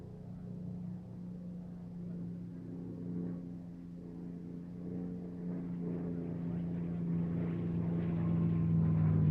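A North American Mustang makes a final flypast at an air show at Duxford, its piston engine drone low and steady at first, then slowly growing louder as it approaches.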